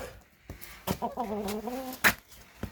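Farmyard chickens underfoot let out a drawn-out, rising cluck and a few sharp clucks, close and distinct amid footsteps and scuffing, with no speech.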